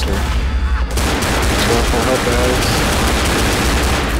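Rapid machine-gun fire aimed at a Smoker in Left 4 Dead, a loud continuous burst of gunfire filling the scene after a brief quieter moment at the start.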